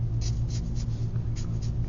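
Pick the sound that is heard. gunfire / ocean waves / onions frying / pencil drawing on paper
pencil drawing on paper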